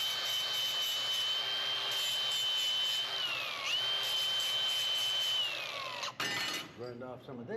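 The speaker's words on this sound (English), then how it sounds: "Got to grind off the back where the drill went through." A steady high whine of a grinder cutting metal, grinding off the back of a drilled hole, dipping in pitch twice under load, then stopping abruptly, leaving a whirring spin-down and shuffling.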